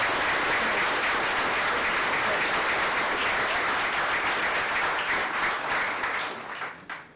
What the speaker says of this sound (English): please give a round of applause to all our city staff